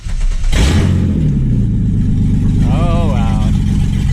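A 3.8L V6 in a fourth-generation Camaro, running on open headers, cranks briefly and fires, settling into a loud, close, rough idle that drones steadily. A voice rises over the engine near the end.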